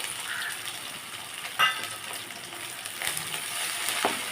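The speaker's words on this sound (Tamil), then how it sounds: "வெட்டி வச்சிருக்கிற பச்சை மிளகாய் இஞ்சி கருவேப்பிலை இதையும் போட்டுக்கலாம்" Green chilli, ginger, curry leaves and lentils frying in hot oil for bitter gourd sesame pulikachal, a steady soft sizzle with a brief sharp crackle partway through and light stirring scrapes near the end.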